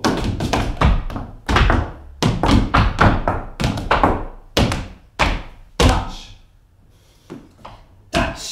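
Tap dance shoes striking a hard floor in knock and shuffle steps from a beginner jazz tap routine, a close series of sharp thuds and taps in uneven clusters with short pauses between them.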